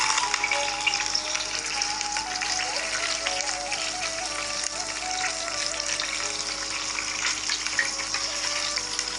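Steady, crackling sizzle of hot oil in a pot, continuous and fairly loud throughout with no talking.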